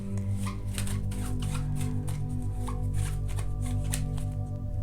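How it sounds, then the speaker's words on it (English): Tarot cards shuffled continuously by hand, a steady riffling and sliding patter that stays close and fairly loud throughout, over a low constant hum, with no talking. "I normally shuffle these cards before I do the reading, so I don't need to shuffle them so much on camera"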